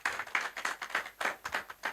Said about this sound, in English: So a huge round of applause to our service providers.